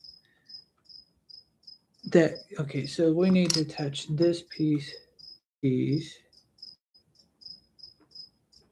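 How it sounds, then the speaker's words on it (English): A cricket inside a lizard tank chirps in regular short pulses, fairly loud and close, continuing under a man's speech in the middle. "I apologize for the loud cricketing noise"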